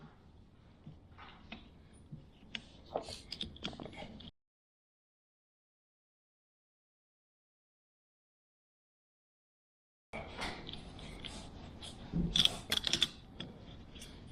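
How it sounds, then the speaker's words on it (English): Bolts being snugged down on the cylinder head of a Toro Timemaster mower engine, working in a crisscross pattern: quiet ratcheting clicks and metallic taps, in a burst, then a long silence, then another busier burst of close clicking. "all I'm doing right now is just snugging up these bolts"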